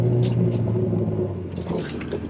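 A car with a swapped SR20DET engine rumbles steadily as it pulls through a corner, a low droning engine note holding close and loud, with faint tyre scrape and no talk over it.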